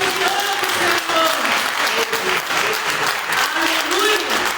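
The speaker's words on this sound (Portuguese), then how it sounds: "aplauda ao Senhor aí no seu lugar" Congregation applause at a church service, sustained clapping from many people with voices calling and shouting over it throughout.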